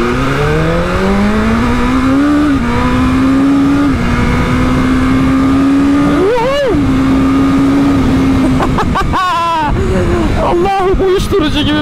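A BMW M1000RR Competition motorcycle pulls away gently, its engine note rising and holding steady before a brief rev surge and a few quick throttle changes; someone talks over it throughout.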